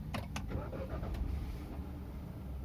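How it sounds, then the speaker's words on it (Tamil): A 2021 Hyundai Venue 1.0-litre turbo petrol engine cranks and catches with a couple of quick clicks, then settles into a low, steady idle rumble. "சரி வாங்க நம்ம இன்ஜின் ஸ்டார்ட் பண்ணி பார்ப்போம்."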